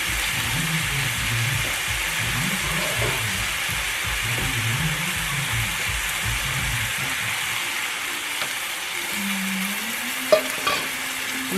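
Keto carne picada meat cooks in a pan with added liquid, a loud, close, continuous sizzle and bubbling, with a brief clink near the end and a low hum rising late.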